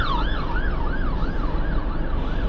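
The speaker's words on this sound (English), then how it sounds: "There is a fire engine just coming through." A fire engine siren wails in a steady rising-and-falling sweep as the truck passes along the road, loud and close with a low rumble of traffic underneath, no talking over it.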